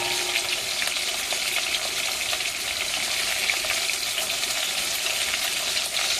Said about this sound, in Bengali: এই কড়াইতে ভেজে দিচ্ছি